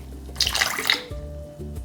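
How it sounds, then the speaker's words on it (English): Half a cup of water pours into a crock pot holding a roast, a short close splash and trickle followed by faint drips and clinks in a quiet kitchen, with no talk. "I'm gonna add a 1/2 cup of water as well"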